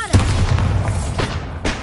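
A Bombarda explosion spell in the video game Hogwarts Legacy bursts with a loud deep boom, followed by rumbling debris and two smaller thumping hits trailing after.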